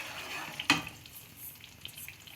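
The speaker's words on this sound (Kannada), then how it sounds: "ಬಬಲ್ಸ್ ಬರ್ತಾ ಇದೆ, ಇನ್ನೊಂದು ಸ್ವಲ್ಪ ತುಪ್ಪ ಹಾಕ್ಕೊಳ್ತಾ ಇದ್ದೀನಿ" Gram flour batter for Mysore Pak bubbling in hot ghee in a pan gives a soft, steady sizzle and faint crackle, with one sharp click early on.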